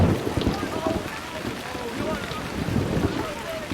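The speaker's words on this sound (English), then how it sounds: "and then it started to rain" Steady rain falls during a scene from the TV drama Lost, a dense low wash of noise with voices talking over it throughout.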